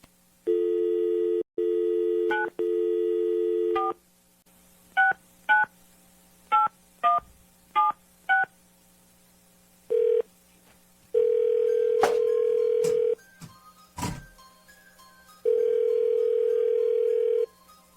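A telephone number is dialed on a phone line: a steady dial tone, then a quick series of separate touch-tone beeps, followed by long ringback tones with brief clicks, loud and close with no talking.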